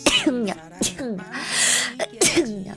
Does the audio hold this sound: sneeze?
yes